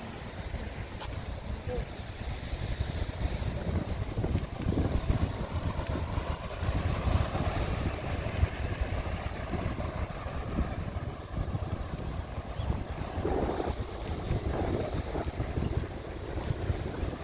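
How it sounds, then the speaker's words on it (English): Strong ocean waves rumble along the Swakopmund coast in Namibia, a continuous surf roar mixed with wind buffeting the microphone, while a person talks over it. "The waves are strong, huh?"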